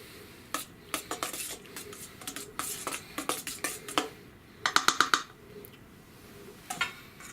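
Coconut oil mixture being stirred in a bowl, with a utensil clinking and scraping against the sides in irregular bursts, including a quick rattling flurry midway, close and fairly quiet with no talking.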